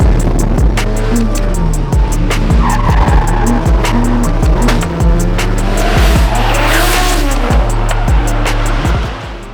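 Drift cars tear through a course one after another with engines revving up and down in a repeated pattern, tires squealing and skidding loudly up close, building to a rushing peak before easing off.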